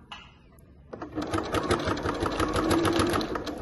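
A sewing machine stitches a cotton fabric wallet, starting with soft handling sounds before the motor kicks in with a steady, close, rapid mechanical whirring and needle chatter that builds slightly and continues to the end.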